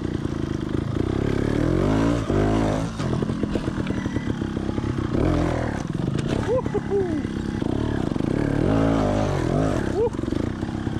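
A trial motorcycle ridden over rocks and through trees climbs a slope, its engine revving hard and sputtering close up, loud and continuous, with a voice speaking briefly over it.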